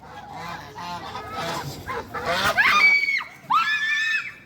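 Loud, harsh honking calls from ducks ring out, two long strained honks near the end, with scattered voices and noise before.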